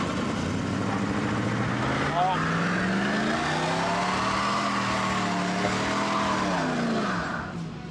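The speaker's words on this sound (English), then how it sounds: "do a burnout." A Chevy Silverado pickup does a burnout, its engine roaring loud and close as the revs climb and hold in sweeping bands, with a raw tire-scrub edge running throughout before it eases off at the end.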